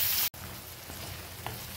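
Tomatoes frying in a pan give a steady, soft sizzle with faint crackles, briefly cut by a short gap near the start.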